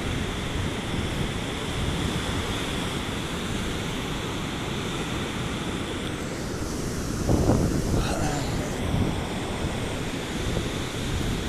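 Storm surge waves break on Mongaguá beach with a steady wash of surf and wind buffeting the microphone, then a larger wave crashes heavily partway through before the water rumbles and recedes.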